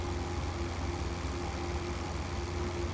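Aircraft engine in the IL-2 Sturmovik flight game, a steady low droning hum with a light buzzy, lawnmower-like edge, unchanging and fairly quiet for a few seconds with no voices over it.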